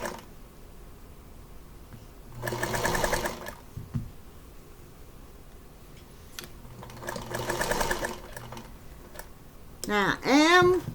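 Sewing machine stitching binding onto a Farmall-themed quilt at a corner, in two short bursts of rapid mechanical chatter separated by quiet handling, then a brief higher whirring at the end.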